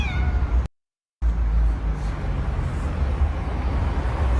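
A cat gives a short, clear meow at the very start, followed by a brief gap and then a steady background hum with no further cries.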